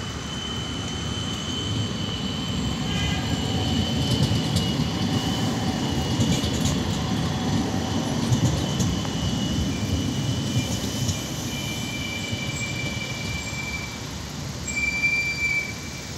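A tram rolls past a busy city tram stop with a sustained rumble of wheels on rail and faint squeals, heard from nearby amid street noise.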